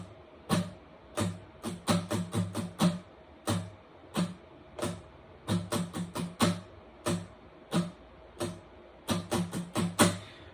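Acoustic guitar strumming the chords of "Such an Awesome God" in a steady down-up rhythm, each strum a crisp, fairly quiet burst with short pauses between phrases.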